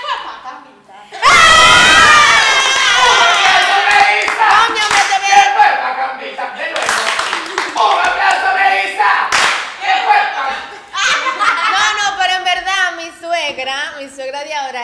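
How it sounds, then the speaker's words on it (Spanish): An audience bursts into loud applause and screaming cheers during a girls' night talk show segment, the clapping sudden and dense, then breaking into scattered claps, laughter and excited voices talking over each other. "Un aplauso para Melissa!"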